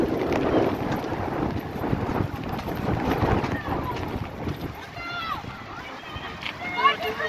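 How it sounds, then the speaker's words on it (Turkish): Gusty wind buffets a phone microphone with low rumbling roar at a women's football match, while voices talk faintly underneath and a few distant chirpy sounds come through near the end. "Tabii çok rüzgar var."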